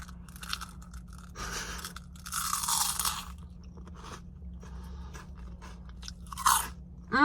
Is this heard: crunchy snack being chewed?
yes